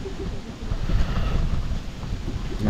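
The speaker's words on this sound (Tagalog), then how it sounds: "Ang lamig ng simoy ng hangin." A cold breeze blows outdoors at a house construction site, a steady rushing wind buffeting the microphone for a few seconds with no talk.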